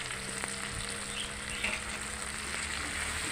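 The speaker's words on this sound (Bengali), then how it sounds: "এখন মশলাটারে একটু কষাই নেব।" Cumin powder, curry leaf powder and salt fry in hot oil in a pan for dum aloo, giving off a soft, continuous hissing sizzle with a few faint scrapes, close by and fairly quiet, with no talking.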